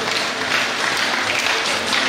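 Audience applause at a children's congress event fills the room as a steady, even wash of many hands clapping, moderately loud and with no talk over it.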